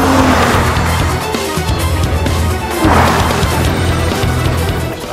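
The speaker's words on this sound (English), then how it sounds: "Understeer all the way up. Wow, that right front is just angry, Matt, through the corner." A Lexus IS 350 F Sport corners hard on a track with the front tire squealing under understeer, a loud close engine roar with tire scrub and squeal rising through the turn.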